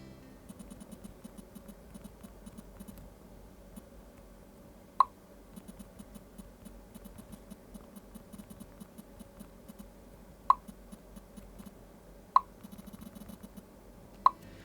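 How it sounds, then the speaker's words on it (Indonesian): A Pocophone F1 keyboard gives off a few faint, sharp haptic taps, spaced irregularly over a quiet, low background hum. "Vibrate-nya di keyboardnya tuh kayak padet,"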